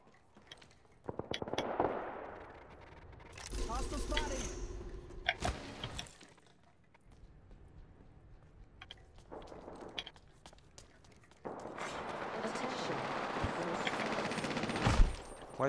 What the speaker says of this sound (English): Why is my teammate actually shooting at me?